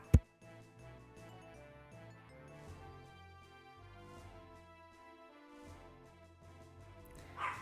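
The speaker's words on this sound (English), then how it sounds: "Sorry, dog barking." Dogs bark indoors after a doorbell rings: a sharp close bark at the start and another toward the end, with steady background game music between.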